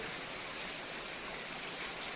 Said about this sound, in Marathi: आणि पाऊस सतत चालू आहे